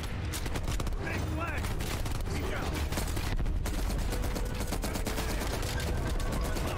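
Dense machine gun fire in Call of Duty: Black Ops Cold War, set in Vietnam, rattling continuously and loud with overlapping bursts and battle effects, with no gap from start to finish.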